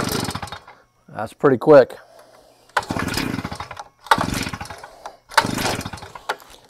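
A brand-new JACKCHEN 14-inch gas-powered cut-off saw being started, giving three rough, loud bursts of engine noise a second or so apart, with a voice speaking briefly before them.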